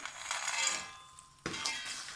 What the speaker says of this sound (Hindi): अब हमने यहाँ कुछ ड्राई फ्रूट्स डालने हैं